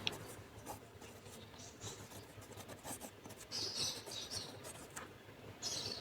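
A pen writing the text of a math question onto paper, a soft, continuous close-up scratching and rubbing at low volume.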